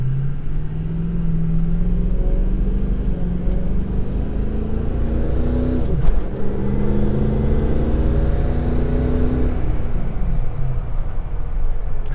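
A 6.0 Powerstroke diesel truck with an upgraded turbo pulls at part throttle: a loud, steady engine drone with rising turbo whine and a deep rumble, close and continuous, ending in a brief hiss and clatter.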